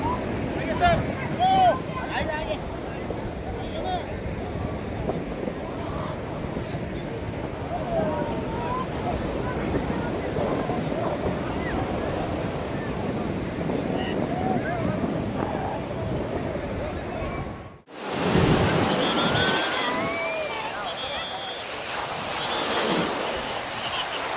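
Ocean surf at Calangute beach in North Goa rolls in as a steady broadband wash, with wind buffeting the microphone throughout and a sharp cut near the end into brighter, more open wave noise.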